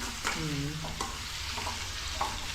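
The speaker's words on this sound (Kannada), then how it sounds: "ಚೆನ್ನಾಗಿ ಫ್ರೈ ಮಾಡ್ಕೊತಾ ಇದು" Paper avalakki, thin flattened rice, frying in a pan with scraping stirs, a steady broadband crackle and a few brief tonal squeaks near the start, with no talking.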